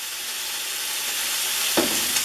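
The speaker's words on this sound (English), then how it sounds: "All right, I'm browning up my meat here." Meat browns in a hot pan with a steady, close, loud sizzle and a brief stirring scrape near the end.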